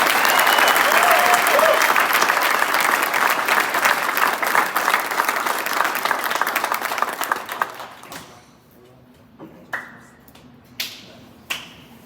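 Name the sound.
audience applause at a signing day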